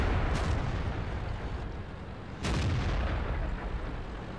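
Tank cannon fire in World of Tanks around an E75 heavy tank: two heavy booms about two seconds apart rise out of a constant loud rumble of engines and battle noise, with no talk.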